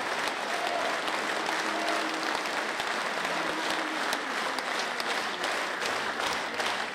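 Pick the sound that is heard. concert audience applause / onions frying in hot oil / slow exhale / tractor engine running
concert audience applause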